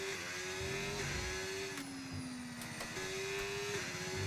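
A Porsche Formula 1 car from the F1 25 video game, its engine revving high and steady while the pitch climbs and drops through gear changes, loud and continuous.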